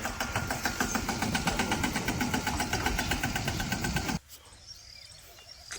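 A small tractor engine chugs steadily with a rapid, even rhythm for about four seconds, then cuts out abruptly, leaving quiet background noise.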